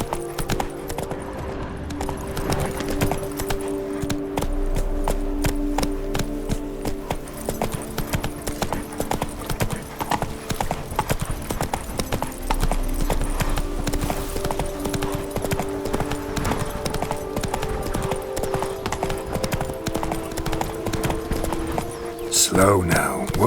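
In The Witcher 3: Blood and Wine, the horse Roach gallops in a rapid, steady clip-clop of hooves that carries on throughout, with a voice speaking occasionally over it and a brief whinny-like flourish near the end.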